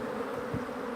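Honey bees hum in a dense, continuous buzz around an open hive during a honey harvest, close and even in level throughout.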